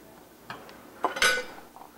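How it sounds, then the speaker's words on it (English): Frozen apples tossed into a pan make a few quick clattering knocks and clinks against the metal, with one clustered burst of impacts in the middle of the clip, close and fairly quiet, with no speech. "We're going to throw those into the pan"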